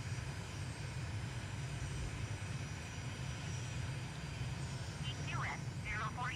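A propeller airplane taking off in a flight simulator game, a continuous steady engine drone at moderate level throughout, with brief chirping tones near the end.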